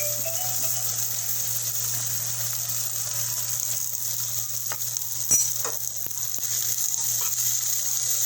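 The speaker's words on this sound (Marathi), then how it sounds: "कांदा लालसर असा परतून घ्यायचा आहे" Sliced onion with a few leaves sizzles in a pan for a Malvani-style mushroom dish, a steady hiss running throughout with a faint hum beneath and a few sharp clinks and scrapes toward the middle, no talking.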